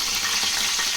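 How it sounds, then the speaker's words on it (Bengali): Chicken balls fry in oil in a wok with a steady, loud, continuous sizzle throughout, no voices present. "এবার আস্তে আস্তে অল্প করে তেল দিতে ভেজে নেব।"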